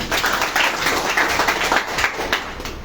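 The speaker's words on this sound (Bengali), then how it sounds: "আমাদের আপনাদেরই প্রান্তীয় পরিবেশক হারুন ভাইয়ের জন্য একটা হাততালি দিই না?" An audience claps for a local distributor at a lottery prize draw event, a steady burst of many hands applauding together for a few seconds, fairly close and loud.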